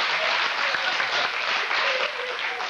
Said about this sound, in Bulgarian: Ръкопляскайте малко по-кратко, защото ми изяждате от времето.